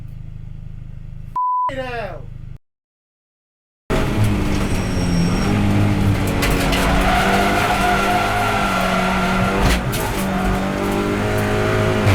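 After a short beep and a moment of silence, the loud engine of an Audi RS3 LMS race car roars as its tyres squeal and screech continuously, up close and harsh.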